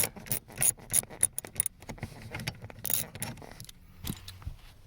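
A hand ratchet with a 15 mm socket clicks rapidly in irregular bursts while bolts are tightened on a 2006-2016 Chevrolet Impala, close and crisp with brief pauses between strokes.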